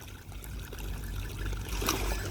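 Running water flows as a soft, steady trickle, fairly quiet and continuous with no voices over it.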